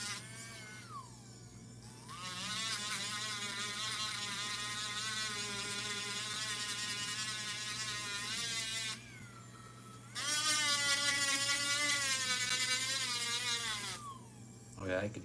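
A rotary tool spins sandpaper against a piece of jewelry under repair, giving a steady high-pitched whine that runs for long stretches, pauses briefly and starts again slightly louder, with the motor pitch wavering as pressure changes.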